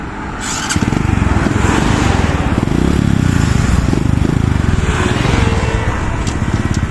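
An engine started for a test drive, its exhaust pipe giving a loud, steady, throbbing idle rumble close by, running throughout without talk.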